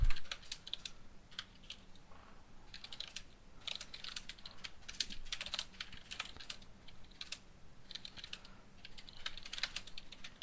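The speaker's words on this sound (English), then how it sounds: "typing real loudly" Loud, close typing on a computer keyboard, with rapid clattering keystrokes in bursts separated by brief pauses, heard alone with no talking.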